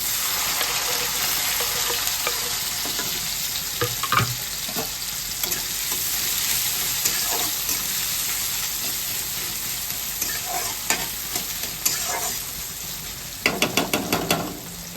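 Chopped ginger, garlic, green chili and onion frying in a pan, a steady loud sizzle throughout with occasional stirring scrapes and a cluster of sharper clatters near the end.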